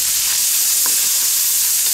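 Spam and sweet corn stir-frying in a pan, a steady broadband sizzle throughout with no voices.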